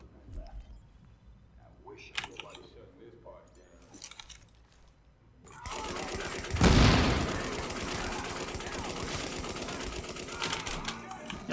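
An M60 machine gun fires in The Division, bursting in loud and dense midway through, with a sharp peak and then sustained rattling gunfire over quieter clicks and game noise.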